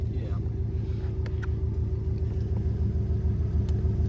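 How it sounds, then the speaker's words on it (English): A Subaru WRX engine idles steadily with a deep, even rumble that holds at a constant level throughout, heard up close from inside the car. "We'll let it idle for a minute, and then we'll go for a quick spin."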